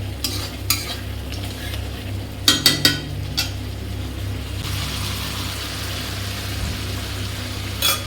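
Spice masala for a meat and potato curry fries in oil in a pan, a steady sizzle running throughout while a spoon scrapes and stirs, with a cluster of sharp clanks against the pan near the middle and another at the end.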